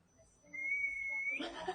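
A person whistles a single sustained, steady note lasting about a second, close and fairly clear, followed by a brief burst of laughter or voices.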